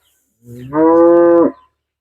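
A cow lowing at a cattle sale: one long, loud, close moo that rises and holds steady before cutting off, alone with no talk over it.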